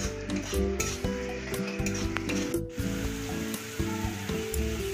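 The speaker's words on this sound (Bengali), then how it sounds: "আবারও সব মশলা খুব ভালোভাবে কষিয়ে নিতে হবে।" Spices with Kashmiri chilli powder fry in hot oil in a pan while being stirred, a loud continuous sizzle broken by scraping spatula strokes and occasional clinks against the pan, with no talking.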